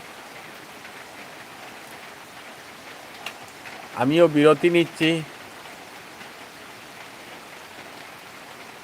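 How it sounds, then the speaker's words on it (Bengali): Light, easing rain keeps up a soft, faint hiss in the background while someone speaks briefly near the middle. "বৃষ্টি অনেক কমে গেছে,"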